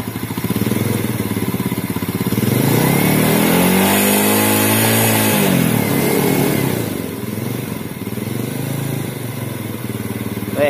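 A Yamaha Vega R motorcycle fitted with an aftermarket carburetor and piston revs up close by, its engine note rising and falling in a sustained swell before settling back toward a rough idle.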